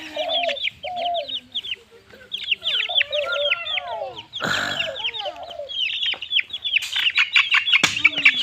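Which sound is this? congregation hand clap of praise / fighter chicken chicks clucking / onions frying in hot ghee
fighter chicken chicks clucking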